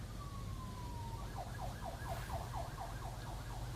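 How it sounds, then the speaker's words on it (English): A siren wails on a nearby main road in a residential neighborhood, starting as a steady tone and then switching to a rapid repeating yelp, moderately loud over a constant low traffic rumble with no talk. "I guess you can hear that siren in the background."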